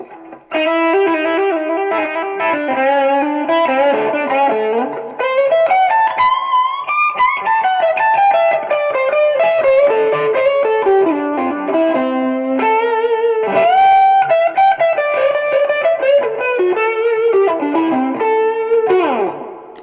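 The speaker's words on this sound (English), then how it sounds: "Finally, some distortion." An electric guitar plays melodic lines through distortion pedals into a Vox MV50 amp, loud, sustained and gritty, with notes ringing into one another and a brief break midway; no talking.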